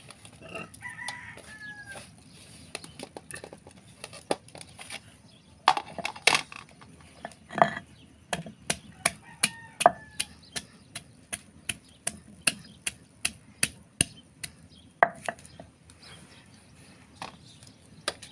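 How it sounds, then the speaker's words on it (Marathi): Garlic, cumin, coriander and ginger masala crushed on a stone slab for a wood-stove dal and vegetable dish: a steady series of sharp stone knocks and scrapes, with a rooster crowing in the background early on. "आता आपण हा पाट्यावर लसूण जिरं धने आणि अद्रक हा मसाला आपण बारीक करून घेऊ"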